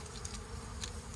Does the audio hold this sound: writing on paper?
no